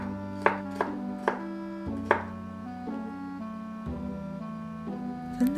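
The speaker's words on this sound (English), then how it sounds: "Slice the garlic." Knife chopping through garlic on a cutting board, several crisp separate chops that start quick and then slow, over a steady low hum.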